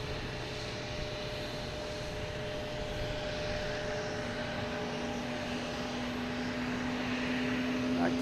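A British Airways airliner at Boston Logan Airport gives off a steady, distant engine roar with a sustained tonal whine, a continuous hum that swells slightly toward the end with no talk.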